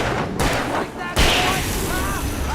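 Gunfire in the Alan Wake Remastered video game: a few sharp shots ring out between stretches of game sound, with a brief booming report near the middle, fairly quiet overall.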